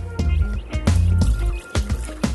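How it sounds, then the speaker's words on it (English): Key lime sorbet mixture pours from a pan into a sorbet machine, with close, wet glugs, splashes and drips in uneven bursts. "I'm just going to pour into my sorbet machine."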